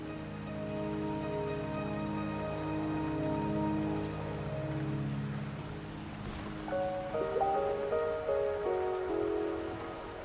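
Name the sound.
rain falling in the video game Wuthering Waves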